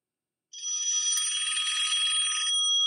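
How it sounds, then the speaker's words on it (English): A phone rings with a steady, bright electronic trill that starts abruptly and continues unbroken, close and clear with no talking over it. "Hear my phone ringing."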